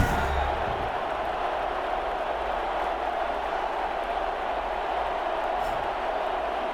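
Stadium crowd noise in a Madden 21 football game on PS5 before a Houston Oilers versus New England Patriots matchup, a steady broad roar of a large crowd that holds even and loud throughout.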